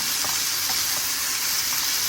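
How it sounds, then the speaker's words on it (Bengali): Mixed winter vegetables fry with turmeric in a pan, a loud continuous hiss with a few faint stirring scrapes, close and unbroken. "সামান্য হলুদের গুঁড়া দিয়ে ভালো করে ভেজে নেব সবজিটা"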